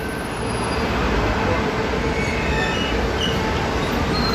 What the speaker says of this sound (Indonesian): Oke, ini dia bis ya teman-teman.